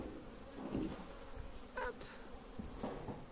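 Honeybees buzz around a beehive, a soft continuous drone with a few louder passes as individual bees fly near, with no voices.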